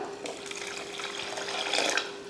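Steady splashing of water being poured into a pot of tamarind rasam, a continuous close rushing sound that swells slightly near the end.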